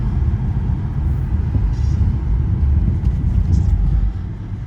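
A 2006 BMW 325i engine runs rough while driving, a steady loud low rumble and drone carrying through the cabin with no clear breaks, easing slightly near the end.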